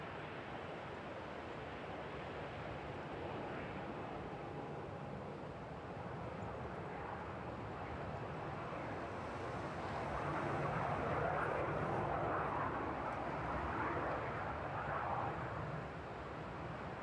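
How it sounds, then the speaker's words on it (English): A Ryanair airliner on approach in strong storm winds, a steady broad roar of jet engines mixed with wind buffeting, swelling somewhat louder toward the end and continuing without talk. "Slightly buffeted by the wind there, but relatively stable approach from the Ryanair."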